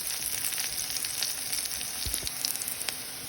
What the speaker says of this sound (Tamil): கடுகு சின்ன சீரகம் பொரியுது